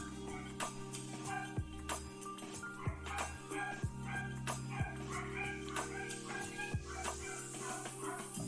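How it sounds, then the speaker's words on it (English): A pet dog barks repeatedly at the mailman, sharp barks in an uneven rhythm a short distance from the microphone, over a steady background hum. "My dog is really barking at the mailman."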